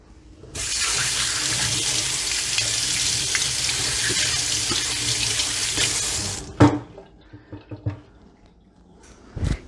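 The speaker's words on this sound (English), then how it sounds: "Rinse my hands off again." Hands rinsed under a running kitchen tap, a loud steady gush of water for about six seconds, then the flow stops and a few splashes and clunks follow.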